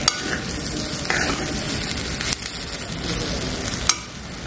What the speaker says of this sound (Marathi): वरे छान अशी परतून झालेली आहे बघा भाज्यांमध्ये.